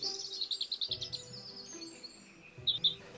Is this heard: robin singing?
yes